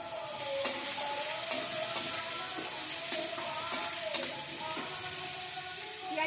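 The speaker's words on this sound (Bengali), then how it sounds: "এবার আমি কুচনো পেঁয়াজগুলো দিয়ে দেবো।" Chopped onions fry and sizzle in a pan while being stirred for a winter vegetable curry, a steady hiss punctuated by scraping taps of a spatula.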